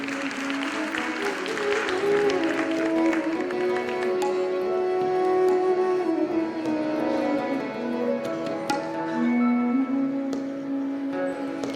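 Audience at a ghazal concert clapping together in a sustained burst of applause, with a held musical tone and some voices running under the claps, moderately loud and fairly close.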